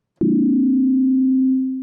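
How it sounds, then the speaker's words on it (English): A single synth note from Ableton Operator starts with a brief fluttery, wobbling attack and then settles into a steady pure tone that holds and slowly fades, heard alone. "a cool, interesting attack that sort of has a little bit of kind of almost like a flutter to it at the very beginning"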